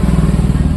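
A Hero Splendor motorcycle engine with timing chain noise runs loud and close for under a second, a steady low throbbing with a rapid rhythmic pulse.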